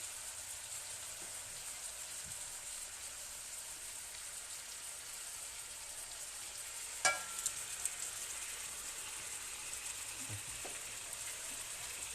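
Canned tomato hitting a hot pan of seared lamb chops gives a steady, soft sizzle like light rain throughout, with one brief louder crackle partway through and no talking.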